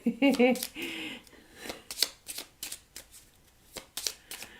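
A small Lenormand card deck is shuffled in quick papery riffles and taps, close and crisp, with a brief voice at the start.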